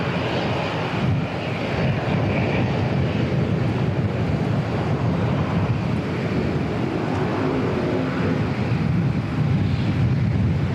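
An Air New Zealand Boeing 777, flight NZ121 bound for Melbourne, taxis out at Auckland Airport with a steady, loud jet-engine roar mixed with wind rumble on the microphone and no voices.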